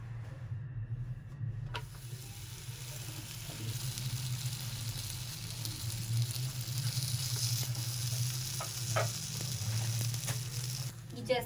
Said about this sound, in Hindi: यहाँ पर देखिए हमने ले लिया है फ्रोजन पराठे। अब इनको हम तल लेंगे।